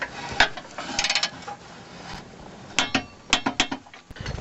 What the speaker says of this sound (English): I'm going to come back with my torque wrench and torque them down to 73 foot-pounds.